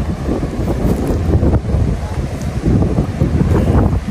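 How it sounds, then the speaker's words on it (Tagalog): Strong waves surging against the shore, a heavy churning wash buffeted by wind noise on the microphone, loud and continuous, with a faint voice briefly in the background. "Lakas ng alon guys"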